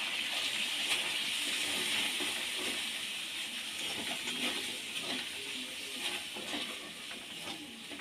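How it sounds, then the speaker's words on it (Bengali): Onion, garlic and green chili fry in katla fish oil, a steady hissing sizzle held close throughout with faint stirring scrapes and clicks. "পেঁয়াজটা ভাজা হয়ে গেছে"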